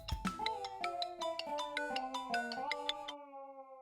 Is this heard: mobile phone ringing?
yes